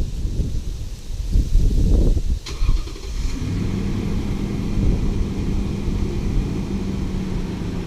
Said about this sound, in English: Alright, so as you saw, we're remote started.